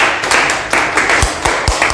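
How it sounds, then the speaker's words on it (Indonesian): A congregation at a church youth service claps steadily, a dense run of close, bright handclaps with a few sharper individual claps standing out. "tepuk tangan buat Pak Kris yang sudah melayani kita"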